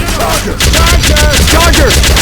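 Rapid, loud automatic gunfire pours at the Tank in Left 4 Dead 2 on a modded Swamp Fever map, a dense continuous burst of shots with a brief dip partway through.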